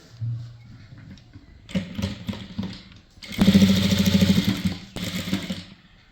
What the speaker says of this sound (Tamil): இப்போ இந்த துணி எடுத்துருக்கோம் இல்லைங்களா அதுக்கு மேலே ஒரு பதி தையல் போடணும்